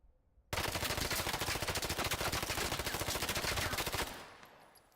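Rapid automatic gunfire from a video game, a dense loud burst of shots in quick rhythm lasting about three and a half seconds, then fading out with a short tail.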